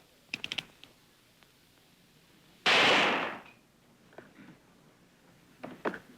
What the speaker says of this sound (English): Remember, the blood pellet that hits Dan will come right out of this gun.